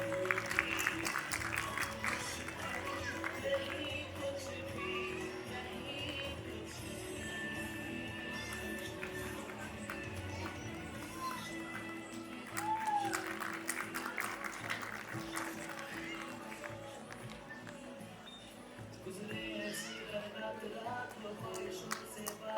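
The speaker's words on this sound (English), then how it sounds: "Everyone, please clap." Faint, sustained clapping from an audience at a school prize ceremony honoring students, a steady patter lasting over twenty seconds with murmuring voices underneath.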